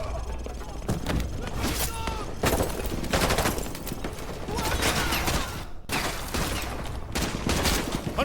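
Heavy gunfire in Modern Warfare 2 Remastered, dense sustained bursts of automatic and rifle fire with thuds and impacts rolling continuously throughout, loud and close, with battlefield voices shouting over it.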